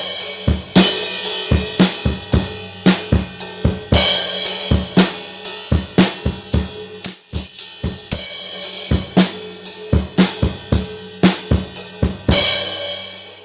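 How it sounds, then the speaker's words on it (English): A drum kit plays the main beat of a song, a steady pattern of punchy kick and snare hits with crash cymbal accents. It is close and alone. "The main beat on its own is going to sound like this."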